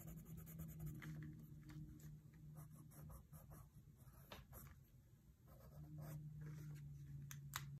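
Coloured pencils shade feathers of a parrot drawing on paper with soft, repeated scratchy strokes, quiet and close, with no voices.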